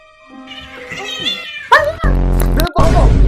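A cat meows in a few rising, wavering cries up close, followed by loud, harsh bursts of noise.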